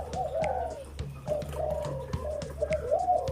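A spotted dove coos repeatedly in a soft, rhythmic phrase, fairly close, over faint background noise and occasional clicks.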